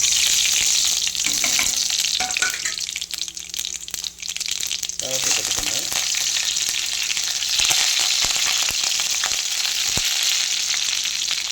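Mustard seeds, urad dal and chana dal crackle and sizzle in hot oil with steady popping, plus occasional stirring clinks, loud and close.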